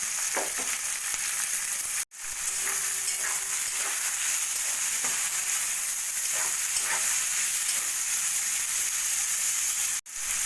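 Whole spices (bay leaf, cardamom, cinnamon and cloves) and four large, thinly sliced onions fry in hot oil in a wok, giving a loud, steady, close sizzle that carries on unbroken, with no talking.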